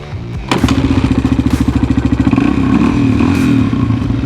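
A Honda XR200 motorcycle rides over snow and ice, its engine starting up and then thumping loud and close in a steady rapid rhythm under throttle.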